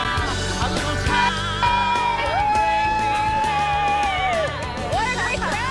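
A large outdoor crowd cheers, yells and whoops loudly and continuously, with sustained high shouts rising above the roar.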